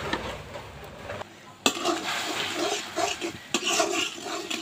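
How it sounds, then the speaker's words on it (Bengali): Spice paste with cumin, coriander, turmeric, bay leaf and garam masala is sautéed in oil for a koi fish curry, a crackling sizzle with repeated spatula scrapes against the pan, close and continuous after a brief lull. "কিছুক্ষণ না কষে নেব।"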